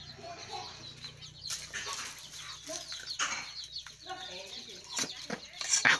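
Native village chickens cluck and call near a cooking area, scattered clucks mixed with wing flaps and rustling, while someone talks over them.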